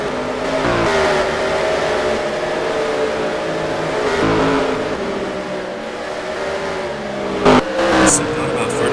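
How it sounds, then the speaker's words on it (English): Stock cars race past in the NASCAR Racing 2003 sim, with a steady pack of engines roaring and droning and engine pitch rising and falling as the cars pass, loud and continuous under a commentator's voice. "Gaggle of cars right here."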